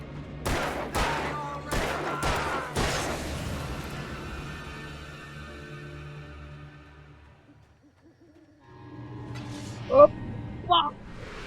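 Gunfire at a creature in the video game Alan Wake, several sharp shots in quick succession at the start that trail off into echo, followed by a later burst of sound with a voice.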